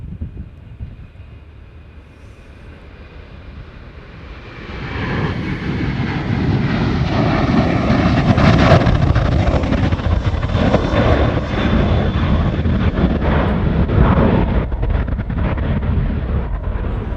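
An airplane departs Honolulu airport on a reverse-ops evening, its engine roar swelling from a distant hum to a loud, sustained jet rumble that holds steady to the end.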